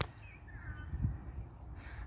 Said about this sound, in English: Okay, we're watching this bird.